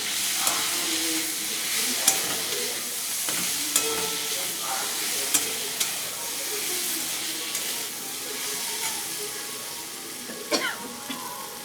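Tomato and spices stirred into frying kajli fish curry in a pan, a steady loud sizzle with intermittent scraping and clinking of the spoon against the pan throughout.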